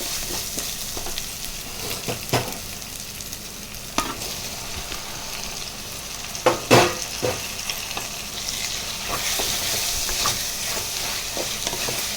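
Tomatoes stirred and frying with mint in a pan, a steady sizzle running throughout with a few sharp scrapes and clinks of the stirring utensil, close and alone without any talk.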